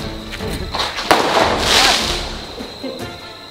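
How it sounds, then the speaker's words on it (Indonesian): Cheap fireworks priced at 90 thousand rupiah go off close by in loud crackling bursts, with sharp pops and a sustained fizzing crackle over a few seconds. "Ternyata segitu kerasnya, guys, kembang api seharga 90 ribu"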